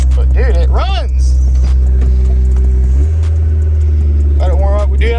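A Honda S2000, started after sitting for two years, idles loudly and close in a steady low drone that shifts to a deeper, fuller tone partway through, with people talking over it.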